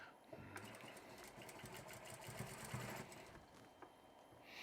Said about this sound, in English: I'm going to drop my presser foot. It's doing a back stitch.